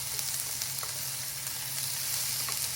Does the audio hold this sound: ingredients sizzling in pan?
yes